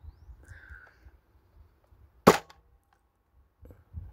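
A Nerf N1 Agility toy blaster fires a single foam dart from a rested position, one sharp snapping shot near the middle. Soft mechanical handling clicks come before and after it, and there is no talk.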